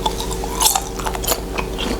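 Crunchy Chinese latiao snack chewed up close, with steady crisp bites and munching crackles over two seconds, a few sharper crunches standing out.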